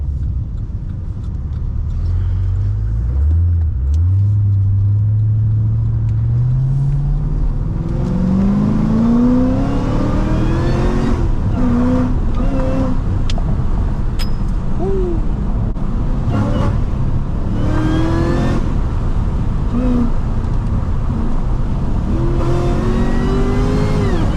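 A modified Cadillac CTS-V engine revs up through rising pitches as it accelerates, loud and close from inside, with gear changes and steady road rumble throughout.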